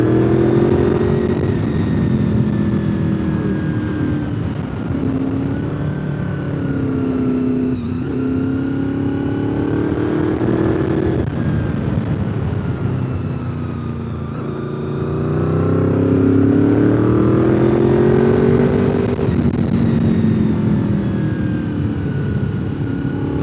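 Porsches and adventure motorcycles on the Tail of the Dragon road at Deals Gap, engine tones rising and falling as vehicles rev and pass nearby, with continuous motor drone and no talking.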